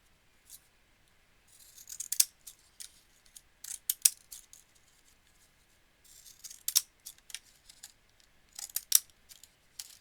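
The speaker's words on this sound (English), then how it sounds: "because scissors are big and bulky and in the way" Scissors snip through paper in short, crisp bursts, some single and some in quick clusters, close by in an otherwise quiet room during card making.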